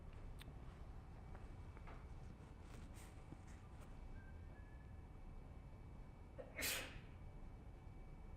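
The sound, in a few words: sneeze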